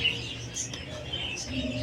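Newly bought pet birds chirping, with faint, high, scattered chirps over a low background hum, fairly quiet and close.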